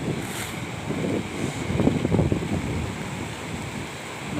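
Strong typhoon wind buffets the microphone beside a rough sea with big waves during Typhoon Tino, producing a loud, continuous rushing roar with surging gusts and no talk.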